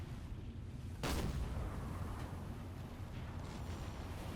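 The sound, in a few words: submarine deck gun firing in the video game Silent Hunter 4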